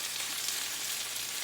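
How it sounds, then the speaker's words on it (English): Steady, bright sizzle of onion and garlic frying in a hot pan, a continuous crackling hiss with no voices. "you hear that sizzle"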